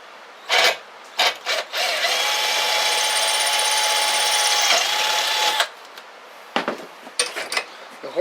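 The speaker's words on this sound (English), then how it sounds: "The horn is just aluminum, so obviously the drill's pretty easy. So see, there we go. Now it's drilled right through." A power drill bores through an aluminum horn clamped in a vise, a few short clicks and bursts followed by a steady, high whining run of about three seconds, then more handling clatter.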